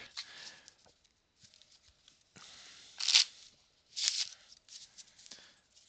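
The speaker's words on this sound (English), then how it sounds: "This feels good. This riffles well. This shuffles well. This cuts well." A deck of playing cards riffle shuffled at a sleight-of-hand magic session: soft handling rustles broken by two crisp, close, fluttering bursts of cards, with no voices.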